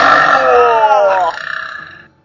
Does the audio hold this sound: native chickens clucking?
no